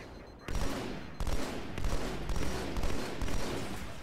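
Heavy gunfire in a Halo video game: loud overlapping volleys of close shots, with fresh bursts hitting at intervals over a continuous roar of fire.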